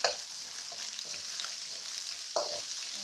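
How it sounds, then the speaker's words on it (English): Garlic, ginger and spring onion fry in a hot pan, a steady soft sizzle with a few stirring scrapes and clinks standing out over it. "So garlic, ginger, and spring onion. So those you want to fry for the fragrance to come out."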